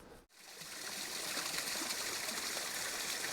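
A small waterfall beside a hiking trail in Rocky Mountain National Park gives a steady, close rushing hiss of falling water after a brief quiet moment.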